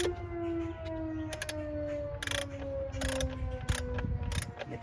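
Ratchet wrench tightening bolts on a Ford Duratec engine during a PCV valve replacement, with quick bursts of clicking pawl strokes at irregular intervals over a low steady background hum.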